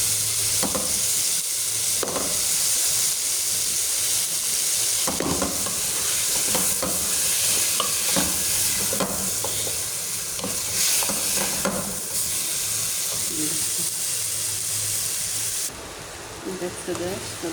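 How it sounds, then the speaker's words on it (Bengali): Carrots and potatoes fry hard in a pan, a loud, steady sizzle with frequent scraping stirs throughout, and a low hum underneath. "সবজিটা কষানো হয়ে গেছে"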